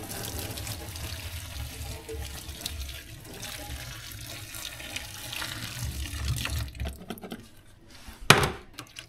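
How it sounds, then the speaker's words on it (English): Boiling water poured from a kettle over food in a dish, a steady close splashing stream for several seconds that ends with a brief clatter. "So I'm going to put boiling water on top of these."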